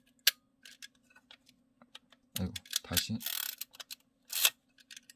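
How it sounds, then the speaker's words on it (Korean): A Canon Canonet Junior film camera set to auto mode fires its shutter. Small sharp mechanical clicks and rattles come up close, with a brief spoken voice among them. "오토 모드를 해놓고 셔터 를 눌러볼게요"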